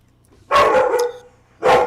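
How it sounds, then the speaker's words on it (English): A dog barks loudly and close by, two sharp barks separated by a brief pause, with quiet room tone otherwise. "Sorry about my idiot dog that just barks out of nowhere."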